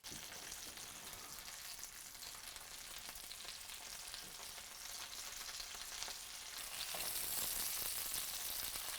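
Breaded chicken parmesan cutlets fry in a pan, a dense, even crackling sizzle that runs throughout and swells a little louder near the end, close by with no talk.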